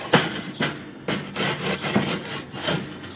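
A wooden Weber scraper rubs back and forth across a grill grate in about six rhythmic, rasping strokes, close and fairly loud, with no talking.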